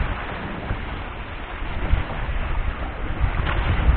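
Strong wind roaring across a fishing boat at sea, a continuous dense rushing noise buffeting the microphone, loud and steady with gusty swells and no talk.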